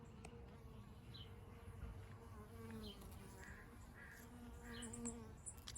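Honey bees buzz at a hive, a faint, continuous hum of many insects with a few individual bees passing close, low and steady throughout with no voices.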